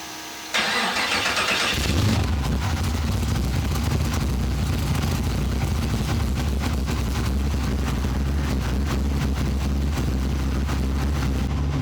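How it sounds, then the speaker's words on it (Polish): A car engine with a new exhaust, an LS twin-turbo, cranks and fires up with a sudden roar, then settles into a loud, deep, rumbling idle from a throaty exhaust. "robimy pierwsze odpalenie na nowym wydechu"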